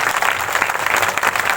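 A church congregation at an Easter meeting applauds, a dense, steady burst of many hands clapping close by, with no voices rising above it.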